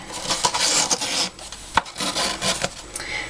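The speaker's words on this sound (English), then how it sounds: "I've threaded the ribbon through" A ribbon is pulled through the punched holes of a paper gift tote bag, giving repeated scratchy rubbing and rasping strokes at close range with brief pauses between pulls.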